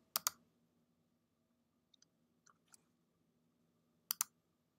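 Computer mouse clicks in a quiet room: a sharp double click at the start, a few faint small clicks in the middle, then another crisp double click near the end.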